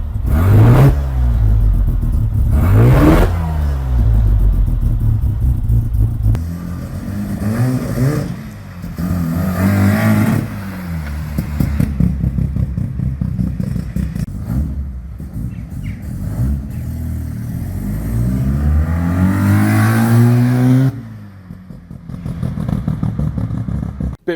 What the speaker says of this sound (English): Part throttle revved all the way through really nicely now